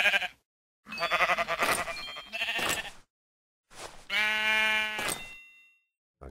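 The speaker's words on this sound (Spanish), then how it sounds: "Ahí tengo una oveja." A sheep bleats several times in close succession, each call a wavering, nasal cry, with short silences between and a longer drawn-out bleat near the end, close and clear with no talk.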